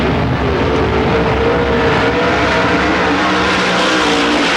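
Dirt track race cars roar through a qualifying lap at a 1995 event, one loud continuous engine howl sweeping past close by with no break.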